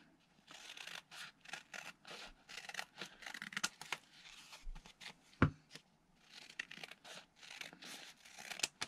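Scissors snipping and trimming paper into a rectangular piece for handmade ephemera, a quick series of crisp close cuts with short pauses and faint paper rustling between them.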